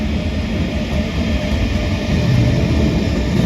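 A Nightjet train arriving at Hamburg Hbf station, heard as a steady, loud rolling rumble with a broad low roar that holds without a break throughout.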